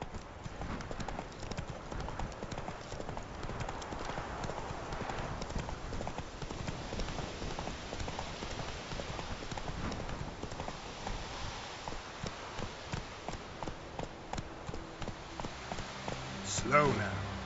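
Roach the horse galloping in The Witcher 3, heard as a quick, steady drumming of hoofbeats that runs throughout at moderate volume, with a faint patter like rain beneath it.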